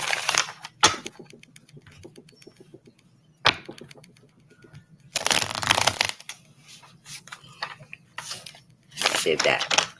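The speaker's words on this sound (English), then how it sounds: "Let me give this quick shuffle." A tarot deck being shuffled at a reading: several short, crisp bursts of riffling cards separated by quieter pauses, close to the listener.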